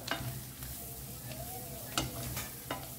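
Prawn noodles with fried prawns and egg are tossed in a pan, giving a soft steady sizzle with scattered light scrapes and taps of the utensil against the pan, fairly faint and without talk.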